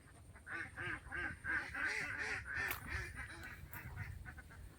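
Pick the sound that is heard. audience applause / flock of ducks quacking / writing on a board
flock of ducks quacking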